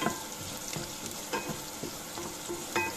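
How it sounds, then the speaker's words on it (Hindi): Garlic and green chillies sauté in a pan for a sweet-and-sour tomato chutney, a steady close sizzle broken by a few light scrapes and taps of stirring. "बनने के बाद हम इसे थोड़ा सॉटे करेंगे एक बार"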